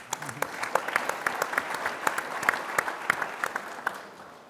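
Scattered, sparse audience applause at an automotive logistics conference session, a handful of distinct claps spread across the hall, moderately loud with some low voices underneath.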